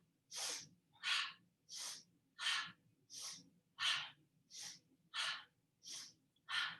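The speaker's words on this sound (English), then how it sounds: "Inhale to your right side, sharp breath. Exhale through your mouth." Sharp breaths in and out through the mouth during a breathing exercise with side-to-side arm movements, ten evenly spaced forceful huffs alone at close range.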